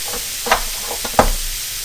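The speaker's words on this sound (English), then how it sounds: "Stir them around for a bit." Vegetables stirred in olive oil in a pan while cooking for a scallops-in-parchment dish, a steady soft sizzle under a few scraping stirs of a spoon, close and moderately quiet.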